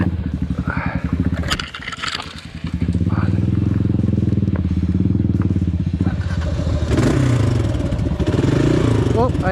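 A motorcycle engine drones loudly and steadily as the bike's front wheel slides out, then the rear follows, heading toward a wall, with scattered scraping and clatter and a rider's voice speaking over it.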